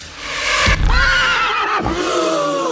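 A loud, close horse whinny rises and trembles, followed by a second drawn-out neigh, with a low rumble at each onset.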